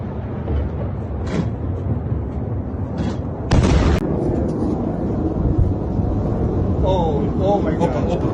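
Missile strikes on Tel Aviv at night produce heavy, rumbling explosions and sharp bursts over a constant noisy roar of wind on the microphone, with a loud blast midway and people talking in the background.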